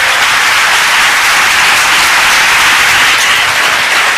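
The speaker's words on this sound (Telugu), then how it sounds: "చప్పట్లు కొట్టి మహిమ పరుద్దాం." A church congregation claps their hands in praise, making a loud, dense, unbroken wash of clapping that holds steady throughout.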